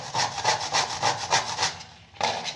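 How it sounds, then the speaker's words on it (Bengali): Hard jaggery is rubbed against a kitchen grater in about nine quick, even rasping strokes, close by. After a short pause a final stroke follows. "গুড়টাকে আমি গ্রেটারের সাহায্যে এইভাবে ঘষে নিচ্ছি।"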